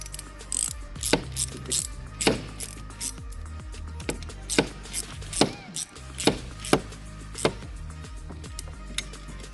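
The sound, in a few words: ratchet retightening bolts on Polaris General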